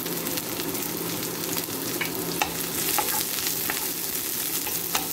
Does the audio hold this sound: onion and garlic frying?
yes